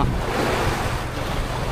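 Steady broadband rush of ocean waves at sea aboard a tuna fishing boat in the Pacific, with constant wind buffeting the microphone and no talk.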